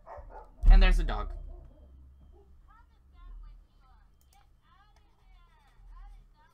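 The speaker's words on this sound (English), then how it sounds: "there's a dog" A dog gives one sharp, loud bark close by, followed by quieter faint yips and whimpers in the background while a person talks.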